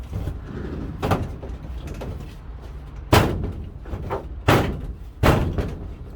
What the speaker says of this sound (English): Oh, with the doors going off.